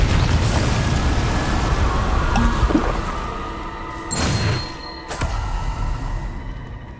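In the Hogwarts Legacy video game, a Confringo fire spell bursts into a rumbling, roaring explosion, with a loud sustained blast that gives way to a sharp crackling burst and a fading rumble.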